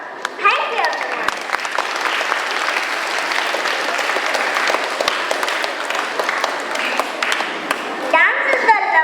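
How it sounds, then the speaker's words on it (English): A crowd at an Independence Day celebration applauds a dance performance with sustained, dense clapping that fills the whole stretch, a few sharper individual claps and cheers standing out near the start and end. "Give them a huge round of applause."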